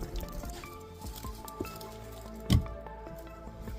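Clear gray water drains from an off-grid tank, with soft drips and wet squishing sounds, one louder splash midway, up close and quiet.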